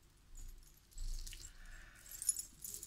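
Metal charms on a key chain, including a small heart-shaped keyhole piece, jangle softly and close by in a few light shaking bursts, quiet and alone.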